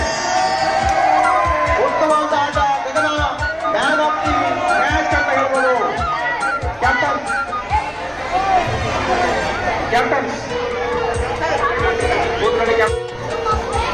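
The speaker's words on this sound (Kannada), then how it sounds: "ಜೋರಾದ ಚಪ್ಪಾಳೆ" Loud, dense applause from a crowd at a girls' taluk-level kabaddi tournament in Mysore, sustained clapping and cheering throughout, with a voice talking over the noise.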